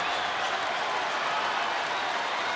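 Dense roar of a baseball crowd of nearly 43,000 on their feet cheering and clapping in a large stadium, loud and continuous throughout.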